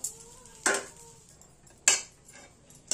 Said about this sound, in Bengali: নেড়ে হালকা করে আমরা ভেজে নেব।